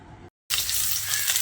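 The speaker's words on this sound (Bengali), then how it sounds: "এবার বেগুনগুলো দিয়েও আলুর সঙ্গে আরও কিছুক্ষণ ভেজে নিতে হবে" Cut eggplant pieces hit a pan of reddish fried potatoes, a short gap of silence giving way to a loud, steady broadband sizzle of frying oil that continues to the end.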